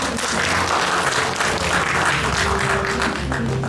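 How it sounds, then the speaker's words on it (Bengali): Audience at a Saraswati Puja stage event claps loudly and steadily throughout, a dense continuous wash of applause from a crowd. "ওর জন্য আরেকবার জোরে হাততালি হয়ে যাক।"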